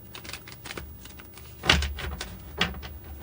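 Tarot cards are shuffled by hand in short riffling bursts, with a couple of sharper snapping riffles standing out close and fairly quiet, no talking.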